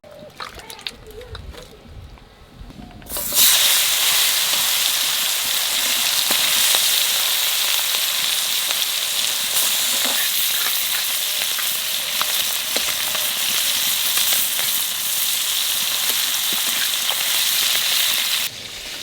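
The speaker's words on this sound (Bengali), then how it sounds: "এই ময়া মাছ কই মাছ একসাথ করে নুন হলুদ মাখাইয়ে ভাজে নেব।" Koi fish rubbed with salt and turmeric frying in hot oil, a loud, steady sizzling hiss that bursts in after a few seconds of quieter kitchen noise and runs almost unbroken to the end.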